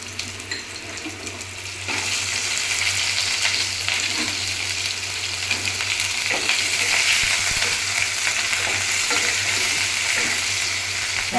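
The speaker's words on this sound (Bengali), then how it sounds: "দুটো তেজপাতা কুচানো পেঁয়াজ" Chopped onions frying with bay leaves and whole cinnamon in hot oil, a steady loud sizzle close up with faint stirring scrapes throughout, no voices.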